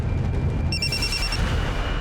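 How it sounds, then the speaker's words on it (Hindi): A mobile phone ringtone starts up partway through, a short pattern of bright repeating electronic beeps heard at moderate level over a low background rumble. "भाभी साहब का फोन बज रहा है।"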